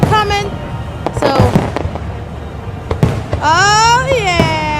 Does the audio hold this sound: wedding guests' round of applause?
no